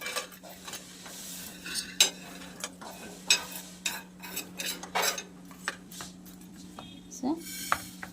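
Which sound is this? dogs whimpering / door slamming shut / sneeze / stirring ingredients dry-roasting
stirring ingredients dry-roasting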